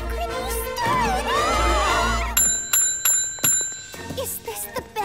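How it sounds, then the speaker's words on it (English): A bicycle-style bell rings with bright, metallic dings after music fades, repeating several times in quick succession with ringing decay, alone and close. "It is definitely the same bell. Look! She did it three times."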